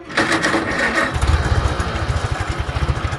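Small engine fitted with a Chinese carburetor sputters to life and settles into a loud, close, uneven putt-putt running rhythm with no voices.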